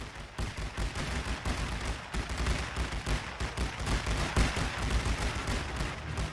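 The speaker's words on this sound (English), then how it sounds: "my men can happily shoot at the enemy, gunning them down quite happily" Continuous rifle and machine-gun fire from soldiers in the WWI strategy game Great War Western Front, a dense, steady crackle of overlapping shots at consistent loudness with no pauses.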